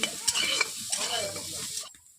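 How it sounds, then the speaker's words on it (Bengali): Boiled potatoes coated in turmeric fry in a wok, a close sizzle with stirring scrapes that fades out near the end. "আলুগুলোকে আমি ভেজে নিচ্ছি"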